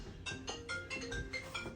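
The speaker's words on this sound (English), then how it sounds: "now, let me answer this phone here." A phone rings with a repeating electronic tone, a rapid series of bright pulses, steady and moderately quiet in an office.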